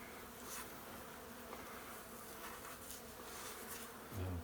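Bees hum steadily inside a massive seven-foot-tall hive behind a house chimney. The close, continuous drone stays level throughout, and a brief low thump comes near the end.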